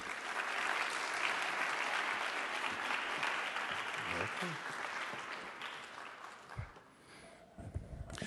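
Sustained applause from a college audience at a Suffolk County Community College race dialogue event, a dense clapping roar lasting several seconds before thinning out, with a voice briefly audible near the end.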